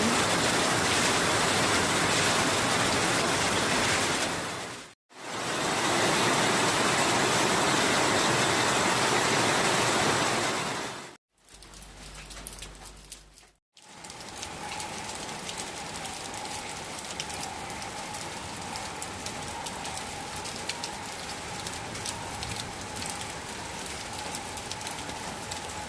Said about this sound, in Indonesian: Hongkong hujannya nggak berhenti.